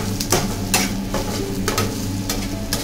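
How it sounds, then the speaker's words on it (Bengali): Cumin seeds sizzling in hot oil in a pan over a gas flame, with a few sharp scrapes of a spoon stirring through a steady close crackle. "কিছুক্ষণ ভাজবো, আর গ্যাসের ফ্লেমটাকে একটু বাড়িয়ে দেবো, একটু ভাজবো ভালো করে।"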